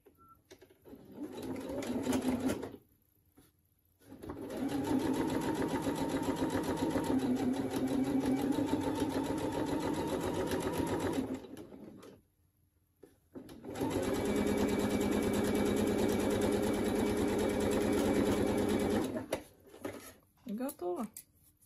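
A sewing machine stitches a handmade fabric doll, running in long steady whirring bursts with brief pauses between seams, loud and close.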